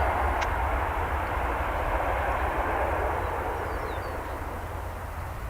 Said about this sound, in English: You can probably hear the reverse thrusters going.